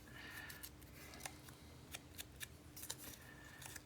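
Scissors snip through paper while collage pieces are fussy cut, giving quick, crisp clips in irregular bursts, close and fairly quiet over a faint steady hum.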